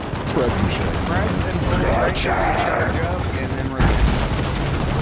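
In Gears of War 4, weapon fire hammers steadily at a target as a dense, continuous burst of shots with a heavy thump near the end. A voice talks over the shooting.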